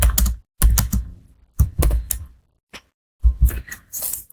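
Short bursts of rapid clicking from a computer keyboard as code is typed, coming in separate flurries with brief pauses between them, close and clear with no voices.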